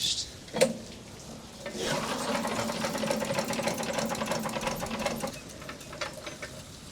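A flooded small engine being cranked over and over in a rapid, rattling mechanical rhythm for several seconds, close and fairly loud, following a sharp click at the start and tapering off near the end.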